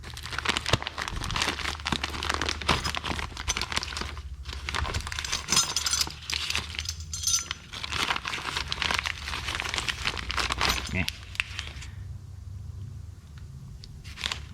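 Cardboard packaging crinkles and tears as a replacement catalytic converter gasket for a Chrysler PT Cruiser is unwrapped, close and busy for most of the stretch, then quieting toward the end.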